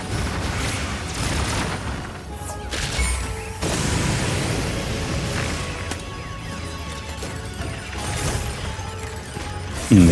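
Small monsters blow up in the video game Monster Hunter Wilds, several loud booming blasts and crashing impacts over a few seconds amid clattering game noise, with a final sharp burst at the end.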